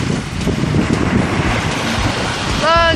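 Sea surf at a Baltic beach between Latvia and Lithuania, a steady broad wash of waves with gusting wind on the microphone, loud and close throughout, with a brief whistling tone near the end.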